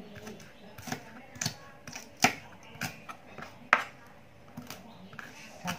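Several sharp knife chops on a board cutting cilantro roots, irregularly spaced, with faint background hum between strikes.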